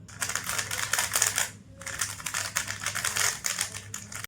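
A 3x3 speedcube with a peak setup applied, turned rapidly in a dense stream of soft clicking clatter with a brief pause midway; close and fairly quiet, with no talking.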